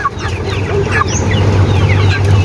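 A flock of 45-day broiler chickens clucks and chirps close by in a farm setting, many overlapping calls over a steady low hum of background noise.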